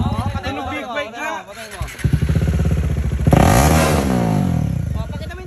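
A big bike motorcycle with an SC Project exhaust revs hard close by, climbing from a rough idle into a loud sustained roar, while voices chatter over it.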